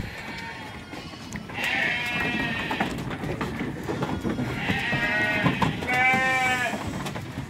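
Goats on a farm in the rainy season bleat at feeding time. Several loud, wavering calls sound from close by over a constant rustling, shuffling background.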